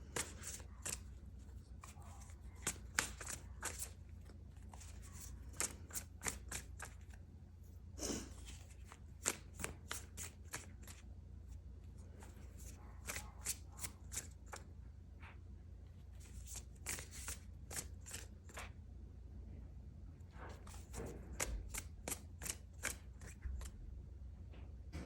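Tarot cards being shuffled in a quiet room, riffling and snapping in repeated bursts with short pauses, fairly close and soft, no talking.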